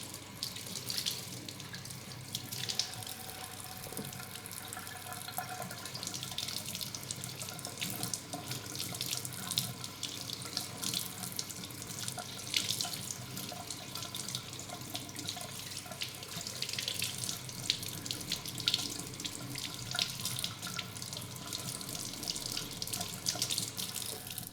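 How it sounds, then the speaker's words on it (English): A kitchen tap runs steadily into a sink while hands are washed under the stream after baking double chocolate orange cookies, a continuous close hiss of water with small splashes and no talking. "I'm gonna wash my hands."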